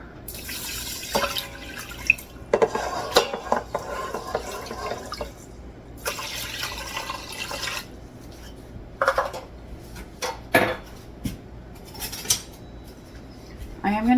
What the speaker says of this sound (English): Then I am going to add some water.